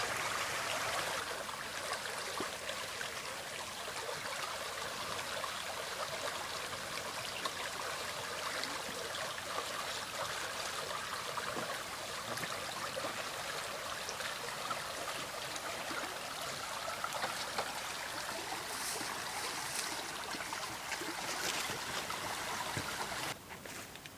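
River water rushes and gurgles in a steady, broadband wash close by, a continuous flowing stream with no voices heard.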